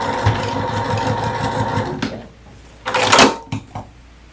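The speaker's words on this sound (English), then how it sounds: "And again, you're stitching seam to seam." A sewing machine stitches a seam on a small presslock wallet, running steadily for about two seconds before stopping, followed by brief clattering handling noises close by.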